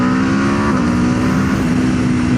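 An Aprilia RSV4 Factory 1000cc superbike pulls hard at full throttle, its loud, close engine note holding a sustained high-revving roar with a brief dip in pitch partway through, and no voices.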